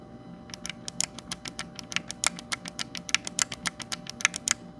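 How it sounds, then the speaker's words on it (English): The mechanical face buttons on a Razer Wolverine V2 Chroma controller are pressed over and over. Each press gives a crisp, sharp click at close range, in a fast, slightly irregular rhythm over faint background hum. "This is how front-facing buttons sound like."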